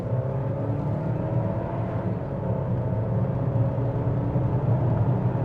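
A 2026 Volvo XC90 B5 engine accelerating at about half throttle, a steady low rumble and whir heard from inside the cabin, continuous and moderately loud with no sharp peaks.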